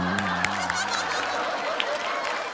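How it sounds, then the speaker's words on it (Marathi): Studio audience at a Marathi comedy stage show breaks into dense, steady applause that fills the whole stretch, with a faint musical tone fading out near the start. "जोरदार टाळ्या झाल्या पाहिजे त्या दोघांचा."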